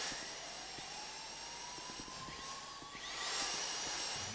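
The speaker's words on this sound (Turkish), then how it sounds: "Matkabı çıkarttım görüyorsun." A steady mechanical drill whine cuts through a vault door during a heist in GTA 5, loud and continuous with a rising pitch, with a brighter burst of grinding near the end and no talking.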